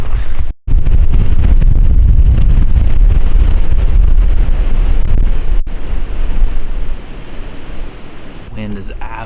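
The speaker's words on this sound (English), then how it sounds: "Wind is absolutely ripping right now" Strong wind roars against the microphone outdoors during a spring turkey hunt in Missouri, loud and continuous, easing slightly toward the end as a voice emerges faintly.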